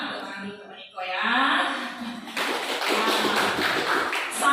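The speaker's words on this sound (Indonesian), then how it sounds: "Tepuk tangan dulu Pak Niko ya." A small group at a school gathering in Pontianak gives a short burst of applause, a dense patter of clapping that follows a voice and continues to the end.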